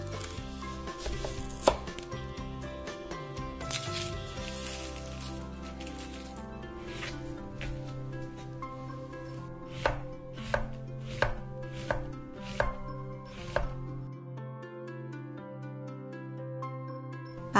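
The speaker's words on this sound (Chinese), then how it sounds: "洋葱这样直直的切就是顺纹" A knife slices an onion along the grain on a cutting board for a salad, with brisk irregular strokes that settle into a steady run of distinct, close chops over soft background music.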